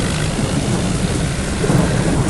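Steady heavy rain with a deep rumble of thunder in the Indian Vehicle Simulator game, a dense continuous wash of sound with no voices.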